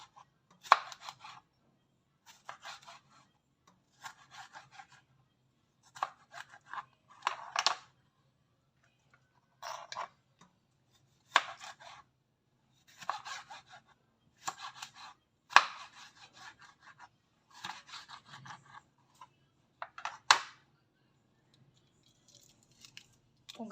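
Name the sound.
knife slicing tomatoes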